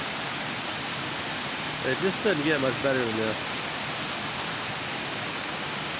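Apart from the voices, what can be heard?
Falling Water Falls waterfall in Arkansas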